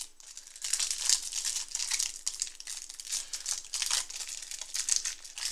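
Someone tears open the packaging of a wire cutter received as a gift. The crinkling and rustling is loud, close and nearly continuous for several seconds, with no talking.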